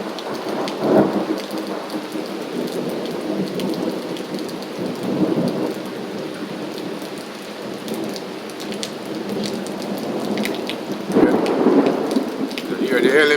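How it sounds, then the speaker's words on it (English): Heavy rain pours steadily in rural Jamaica during a June thunderstorm, close and loud on surfaces, while low thunder rumbles roll in and out beneath it. No one speaks. "This is the first time I'm hearing thunder"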